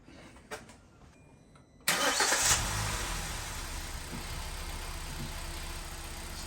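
A Hyundai i10 engine cranks and catches after a quiet pause, then settles into a steady, close idle that carries on to the end with no talk.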